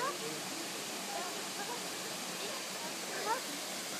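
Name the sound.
small waterfall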